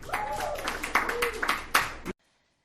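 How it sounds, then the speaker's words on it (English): Clapping and cheering break out from a dive bar comedy show crowd for the Yardley brothers, mixed with voices and whoops before cutting off abruptly. "So another round of applause for the Yardley brothers"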